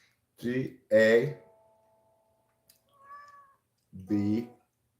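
A cat meows once near the middle, a short tonal call with a few faint follow-up notes, between bursts of a voice mimicking meows close by.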